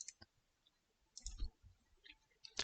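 Computer mouse clicks while unpublishing a Wix website, a few crisp, close, quiet clicks spaced apart with soft handling noise between them and no talk.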